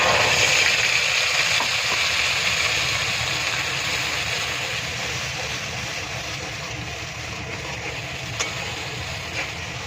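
Spice paste sizzles and fries in a pan with potato and pointed gourd, a steady loud crackle with occasional stirring scrapes, slowly easing off, with no talking.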